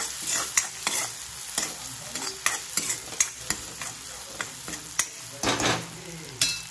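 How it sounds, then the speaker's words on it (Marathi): Chili chicken with hot chilies stir-fried in a pan over a high gas flame: a steady close sizzle broken by repeated spatula scrapes and clacks in an uneven rhythm, with no talking. "आपल्याला हे फास्ट गॅसवर शिजवायचं आहे"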